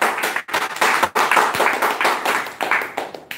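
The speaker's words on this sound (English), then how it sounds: "Can we give a round of applause?" An audience at a Toastmasters club meeting applauds a speaker, a room full of hands clapping with brisk overlapping claps and a few short dips, close and loud.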